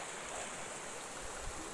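River water flowing steadily around a bather during a camping trip, a continuous broadband rush with soft splashes near the end, fairly close and uniform, with no voices.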